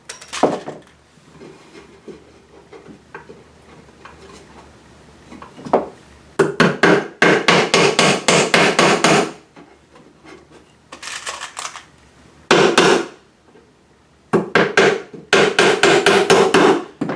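Bursts of sharp, rapid hammer blows driving nails into wood while building a birdhouse, coming in several clusters with brief pauses between, close and loud.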